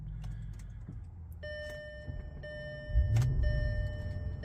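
A 2007 Audi S8 V10 starts inside its heavily insulated cabin: an electronic chime tone rings from the dash, then the engine cranks and catches into a low muffled rumble near the end.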